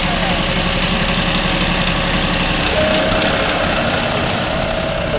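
A John Deere 5405 4WD demo tractor engine idles loud and close, a dense, steady diesel rumble that runs unbroken throughout.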